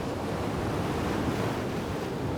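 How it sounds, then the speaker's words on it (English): Strong wind gusts and rushing waves while sailing fast through a fjord, a dense, steady roar of wind against the microphone and surging water, with no voices. "The gusts are pretty powerful, and we're just flying along way too fast for comfort."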